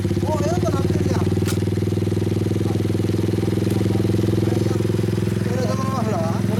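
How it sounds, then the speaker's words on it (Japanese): A Honda Monkey Z50 motorcycle fitted with a Chinese aftermarket muffler idles at a 4MINI owners' meeting. Its loud, even, throbbing exhaust note holds steady throughout while people talk over it nearby. "こっちからエンジン音聞かせてもらう"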